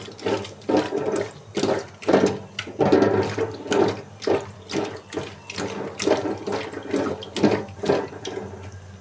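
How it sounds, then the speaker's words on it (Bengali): Fish rinsed under running tap water, a steady gushing stream broken into repeated splashing surges as the fish are rubbed and turned, close and fairly loud with no talking. "মাছগুলো ধুয়ে নিই। এই যে ভালোভাবে ধুয়ে লবণ হলুদ দিয়ে মাখায় রাখছি মাছটা।"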